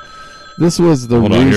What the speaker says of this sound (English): here's a phone ringing